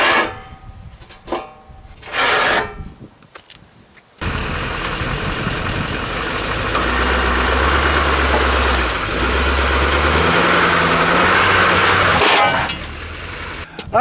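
A Chevy 2500 HD Duramax diesel pickup drives up onto steel car ramps: after a few seconds of quiet handling noises, the diesel engine sets in nearby and holds a steady idling rumble that swells under throttle, then drops off.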